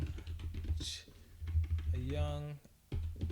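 Keys clatter in short bursts on a computer keyboard, a voice speaking briefly between the clicks, fairly quiet and close.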